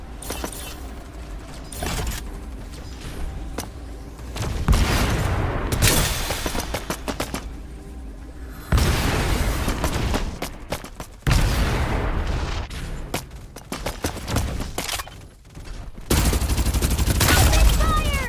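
Gunfire in the battle royale shooter Farlight 84 comes in loud, repeated bursts and rapid volleys separated by brief lulls, with heavy booms and mechanical clatter mixed in and game voices occasionally heard among the shots.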